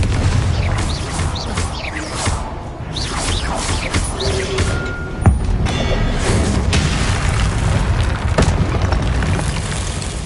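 Repeated spell blasts in the Hogwarts Legacy video game, a Confringo explosion among them, sounding as booming, whooshing bursts over a dense, loud layer of game noise, with a sharp hit near the middle.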